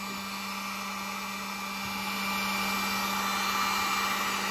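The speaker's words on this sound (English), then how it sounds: "It's a heat gun." A heat gun in a workshop blows a constant whirring, airy roar with a steady motor hum, growing slightly louder partway through and running without pause or voices.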